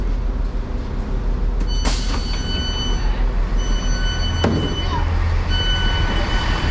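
A train rumbles and rattles steadily from inside a carriage, with brief squeals and clunks of wheels on track as it slows arriving at Bourne End station in the Thames Valley.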